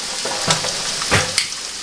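Food browns in a hot frying pan, a brief close crackle and sizzle with a few sharper pops and spits.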